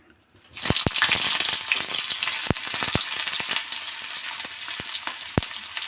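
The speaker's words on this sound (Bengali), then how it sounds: "তেলটা গরম হয়ে গেছে। এবার আমি এর মধ্যে পেঁয়াজ ঢেলে দেবো।" Sliced onions poured into hot oil in a pan hiss into a loud, steady sizzle right away, with sharp popping crackles scattered through the frying.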